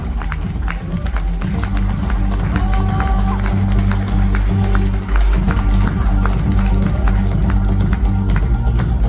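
Audience claps and cheers at a dress gala show as the lead designer is welcomed, loud continuous applause with music playing underneath and a presenter's voice.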